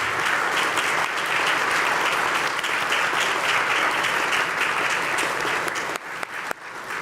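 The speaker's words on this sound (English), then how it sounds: "give a round of applause and welcome these dedicated children." Sustained audience applause welcoming a group of children at a carol service, loud and steady throughout, thinning into a few scattered claps near the end.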